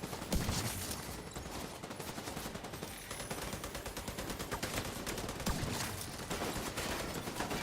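Heavy gunner machine-gun fire in The Division 2 crackles on without pause, dense and steady, blended into a busy wash of game combat noise at moderate level.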